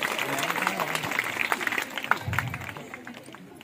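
An audience applauds at a children's literature festival event, scattered clapping spread across the crowd, mixed with background chatter and moderately loud throughout.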